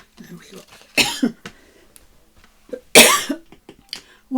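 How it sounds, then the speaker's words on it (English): A person coughs repeatedly in harsh bursts, with two strong hacking coughs between smaller throat-clearing sounds, close and loud. "Wow, that was a coughing fit."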